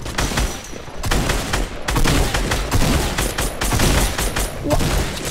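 Rapid bursts of gunfire in Fortnite, including shotgun blasts, crack out loudly in dense clusters across the whole stretch, with no talk.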